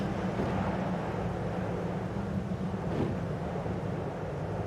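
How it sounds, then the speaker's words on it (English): Wind blows in the video game AER: Memories of Old high on the roof of the world, a steady, moderately loud rushing roar with no music. "Everything is windy and sad."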